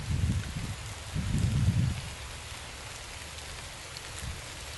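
Steady rain falls in a park with sheltered spots among fall foliage, a constant soft hiss and patter on surrounding surfaces, with a couple of louder low rumbling bursts near the start and no voices.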